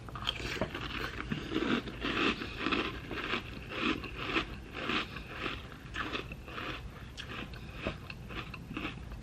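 Honey O's cereal is crunched close to the mic in repeated bites and chews, a steady rhythmic crackle running on alone without speech.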